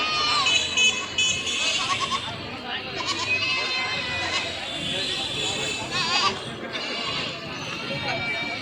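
Goats at a livestock market in Gazipur bleat repeatedly, several calls near and farther off, amid a busy crowd with people talking throughout.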